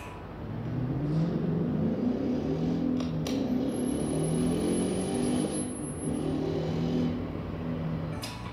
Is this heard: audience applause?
no